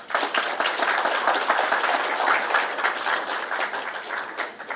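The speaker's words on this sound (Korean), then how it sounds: "오늘 주제 발표를 해주신 두 분의 주제 발표자 이상희 장관님 그리고 김익환 교수님께 우리 박수 한번 다시 드리겠습니다" An audience at a university symposium on national biological emergencies applauds the two presenters, dense and even clapping filling the room from start to finish.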